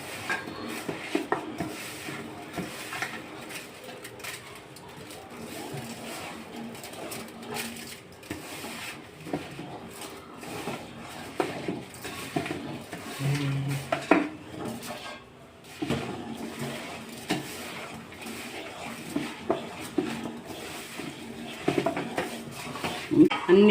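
Rose petals for gulkand being mixed and pressed with sugar by hand, giving a continuous soft rustling and scraping with occasional clinks of a dish, close by and moderately loud, without talk.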